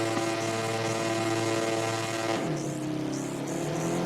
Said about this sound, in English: As we rev it up.